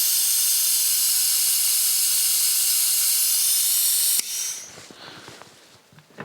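A loud, steady hiss of air rushing through a vacuum brake bleeder on a Formula Konick race car, cutting off abruptly partway, followed by quieter clicks and faint rustling.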